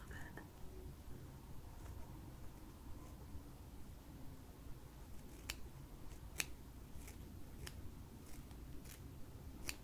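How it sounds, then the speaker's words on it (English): Scissors snip along the lace edge of a lace wig during a close, quiet fitting, giving a run of sharp, crisp clicks in the second half over a soft, steady hiss. "I'm just going to trim up that lace a little bit."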